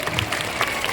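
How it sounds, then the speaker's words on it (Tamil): An audience claps at a school annual day event, a dense, even patter of many hands that lasts only about a second. "கைத்தட்டல் போதாது, இன்னும்"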